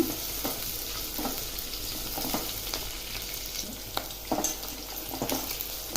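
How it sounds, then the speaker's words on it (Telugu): Onions sizzle steadily in hot oil in a pan, frying until reddish-brown, with a constant hiss broken by occasional light utensil taps and scrapes. "ఇప్పుడు ఉల్లిపాయలు ఎర్రగా వేగిపోయాయండి."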